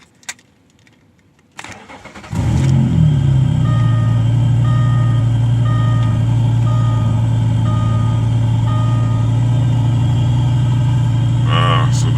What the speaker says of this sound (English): has a big exhaust leak from the sounds of it.